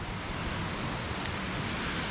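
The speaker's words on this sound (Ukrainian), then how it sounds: "Ну і море, бачите, яке Штурмить" Rough open sea churning in stormy, rainy weather, a steady broadband roar of surf and wind with no breaks, fairly loud and constant throughout.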